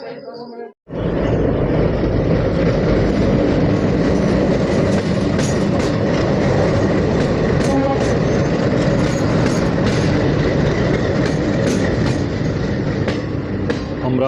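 Amravati Express (Vasco da Gama to Howrah) rolls past on the through line between platforms, a loud, continuous rumble of wagons with steady clickety-clack of wheels over rail joints throughout.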